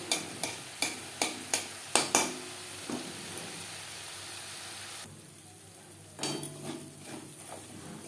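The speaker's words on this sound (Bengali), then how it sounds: "এইভাবে লো ফ্লেমে নাড়াচাড়া করতে থাকবো যতক্ষণ না পর্যন্ত পুরোপুরি ঘিটা বেরিয়ে আসছে।" A spoon stirs cream in a pan over a low gas flame as it renders into ghee. Sharp scraping knocks come close together at first, then slow over a soft, faint sizzle.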